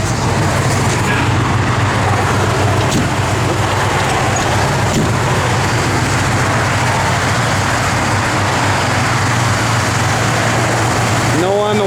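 A 1957 Ford Ranch Wagon engine runs at a steady idle close by, a continuous low rumbling hum that holds unchanged for the whole stretch.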